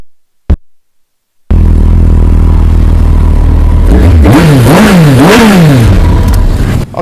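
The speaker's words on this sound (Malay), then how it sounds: "ini Kawasaki GTR 1004 Aero exhaust. Bunyi dia macam mana?" A 2014 Kawasaki GTR 1400 sport-touring motorcycle with an aftermarket Aero exhaust starts up after a short blip, idles loudly, then revs up and down several times in quick blips, close and with nothing else heard.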